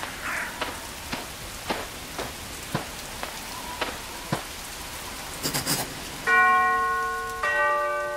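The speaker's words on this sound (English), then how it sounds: "I'd better ring the bell." A mansion doorbell in the video game Arkham Horror rings out in two clear, ringing tones near the end, after a run of sparse dripping, rain-like taps in a quiet scene.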